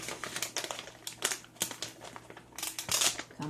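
Plastic packaging on a store-bought naan being cut open with scissors, giving close crinkling and snipping with irregular sharp bursts and rustles, no talking.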